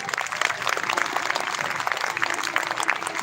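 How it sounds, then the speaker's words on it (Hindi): Loud, dense applause from a crowd at a Rajasthan government employees' strike rally, steady rapid clapping filling the whole stretch without a break. "एक बार जोरदार तालियां।"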